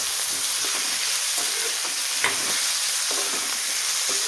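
Green chickpeas and jujubes stir-fried in oil for a traditional Bhogi mixed vegetable dish, a steady close sizzle with repeated scraping strokes of a spoon through the pan.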